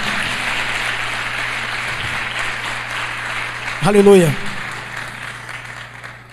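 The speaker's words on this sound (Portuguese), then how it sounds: "Pode aplaudir o Senhor." A church congregation applauds during a sermon, a steady patter of clapping beneath a voice, which rises briefly in a sung or drawn-out exclamation.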